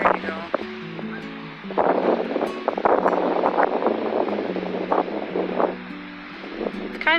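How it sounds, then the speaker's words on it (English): Gusty wind buffeting the microphone along with lake waves washing near a lakeside garden, a continuous rushing roar with a person talking over it throughout. "It's kind of windy and the waves are making a lot of noise."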